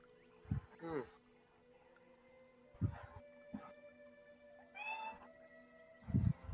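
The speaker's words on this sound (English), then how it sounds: "I hear Kitty. You can't. Yes, she is very loud and has many opinions" Cat meows several times in short, separate calls, fairly close but not loud, with quiet background hum between them.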